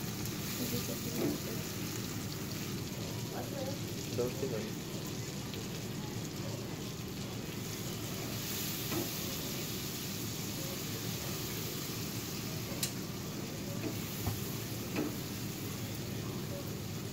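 Steady sizzling of chopped onion and tomato frying in a pan, a continuous crackling hiss with occasional faint clinks, no voices.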